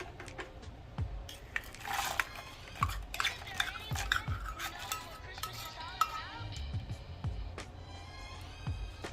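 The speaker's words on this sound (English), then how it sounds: "And then just use a spoon to combine." A spoon scrapes and clinks repeatedly against a bowl while stirring a thick chocolate chip bread pudding mixture, close by and fairly steady.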